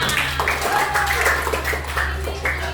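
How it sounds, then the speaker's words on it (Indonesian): Pupils in a classroom applauding together, a continuous patter of many hands clapping over a low steady hum, with children's voices mixed in. "tepuk tangan untuk kita semua"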